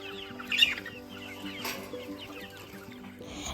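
Young chicks about one and a half to two months old clucking and chirping while being fed bread pieces at a farm house, with soft overlapping calls and a louder burst near the start, close by.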